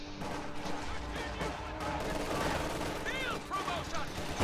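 Dense, continuous game battle noise with MG42 machine-gun bursts and mortar fire rumbling underneath, fairly distant and busy, with scattered crackling impacts throughout.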